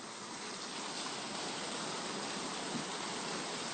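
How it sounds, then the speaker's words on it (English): Tropical rain falling, a steady broadband hiss with an even wash of patter, continuous and unbroken, with no voices. "look at this rain"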